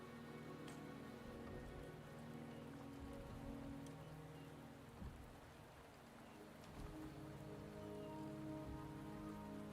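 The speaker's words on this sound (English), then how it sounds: "The rain is subsiding, and the sky will soon clear." Steady rain pours down in a video game, a constant dense patter on surfaces with occasional louder drips, fairly quiet and even throughout.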